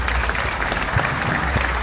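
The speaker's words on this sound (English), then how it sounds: "give me a round of applause" Audience applause for referee Trevor Tan at a Sanda match during the Singapore WuShu & Chinese Culture Festival 2023, a steady dense wash of clapping that stays loud and even throughout.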